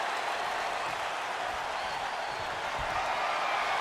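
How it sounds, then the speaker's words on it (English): A steady wash of crowd applause and cheering from the arena audience of a WWE 2K26 steel cage match between CM Punk and Drew McIntyre in the video game, continuous and moderately loud throughout. "this crowd is loving every second of it"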